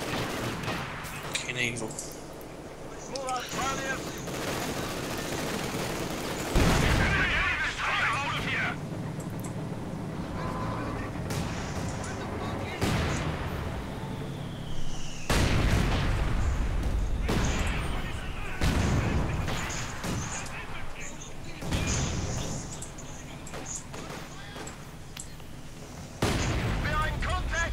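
Mortar blasts and gunfire in Company of Heroes 2 during the Case Blue assault on Voronezh: sharp, loud explosions land every few seconds over a steady crackle of small-arms fire, with someone talking and swearing in between.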